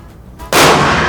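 A single loud, sharp gunshot cracks after a quiet moment, its blast lingering briefly.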